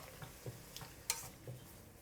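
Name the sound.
stirring chicken with oyster sauce, dark soy sauce and sugar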